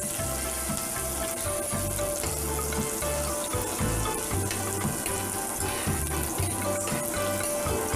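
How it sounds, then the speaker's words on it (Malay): Large onions fry in oil in a pan, a steady loud sizzle and crackle that keeps going without a break, with no talking over it. "Ini je yang hari ini kita masak guna minyak ya. Kita masak sampai layu. Bawang besar."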